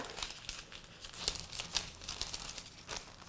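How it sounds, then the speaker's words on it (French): Parchment paper being folded into quarters crinkles and rustles in a series of soft, close crackles with a few sharper crisp creases, no voices. "j'ai découpé une feuille de papier sulfurisé, je vais la plier en 4"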